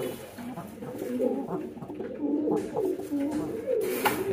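Pet pigeons coo close by in repeated soft, throaty rolling calls. Someone speaks at the same time.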